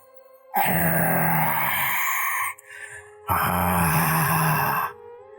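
Two long, heavy, rasping exhalations, each lasting about two seconds, with a short quieter breath between them, close and loud.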